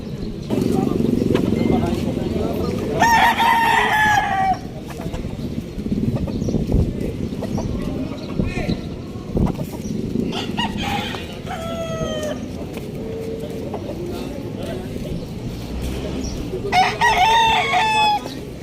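Roosters crow several times, clearly and close by, amid clucking chickens at a poultry farm in Padre Garcia, Batangas, with people talking over the farmyard noise.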